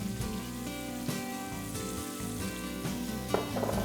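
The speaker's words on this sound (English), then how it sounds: "Then to this, I'm going to add some onions" Onions hitting a very hot pan in Asian-style high-heat vegetable sautéing, a loud steady sizzle and crackle that fills the whole moment, close up with no voices.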